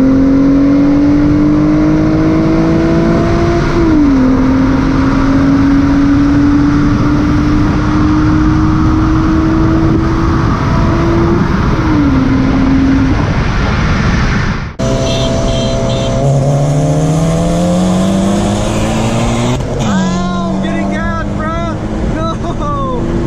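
Honda Accord V6 coupe engine revving hard through several gear changes, loud and close with steady wind rush, pitch climbing and dropping at each shift before a second pull.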